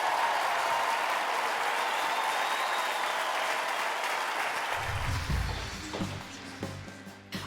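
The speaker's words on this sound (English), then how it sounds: "a huge round of applause for Godolphin Vocal Ensemble" An audience at a young choir competition semi-final applauds a choir with sustained dense clapping that gradually thins and fades, with a low-pitched musical sound entering near the end.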